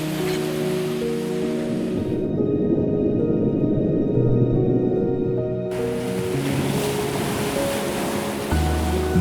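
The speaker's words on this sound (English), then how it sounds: "the sound of crashing waves has echoed across rugged cliffs for thousands of years" Ocean waves crash against rugged Irish cliffs in a continuous loud roar of surf, dense and unbroken, with no voices.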